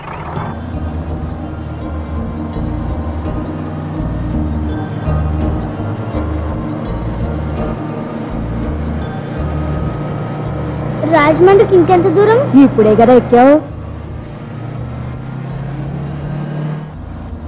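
A bus rolls along the road toward Rajahmundry with a steady, low engine rumble inside the cabin, and a burst of horn-like tones partway through while passengers talk.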